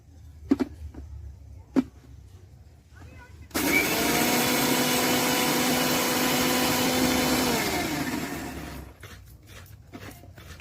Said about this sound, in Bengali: আমার গোবিন্দভোগ চালটা মিক্সিতে বাটা হয়ে গেছে।